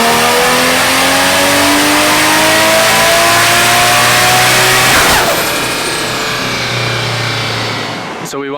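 Turbocharged LS V8 swapped into a Mazda RX-7 FD runs hard on a dyno at 21 psi of boost on 93 octane, a loud sustained engine roar with rising harmonics that peaks around five seconds, then eases off as revs drop.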